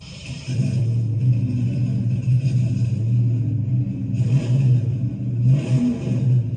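Flowmaster 2.5-inch stainless steel catback exhaust on a Foxbody Mustang, a steady deep rumble at idle rising in three short revs, loud and close, with no talking.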